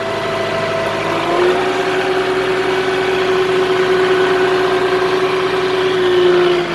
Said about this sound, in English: So I'll drive up there with the tractor, so at least you can get a little view of what I did.